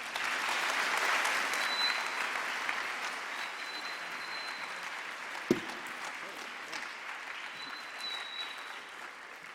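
Audience applause after a talk by a retired lieutenant colonel, steady and full for about ten seconds, with one sharper clap or knock standing out midway as the clapping holds at a fairly even level.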